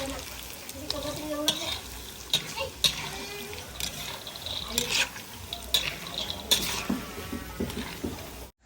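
Garlic fries in oil, sizzling and crackling steadily in a pan while a utensil stirs and scrapes, with light clinks of cookware throughout.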